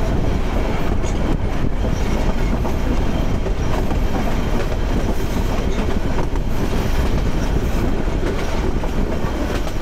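A crowded passenger train runs at speed, a loud, constant rumble of wheels on track with steady clatter and no let-up.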